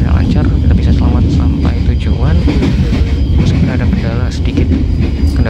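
The Gajah Wong night train from Jogja to Jakarta rumbles steadily on the rails, a loud continuous low roar with faint clicking wheels heard from inside the carriage.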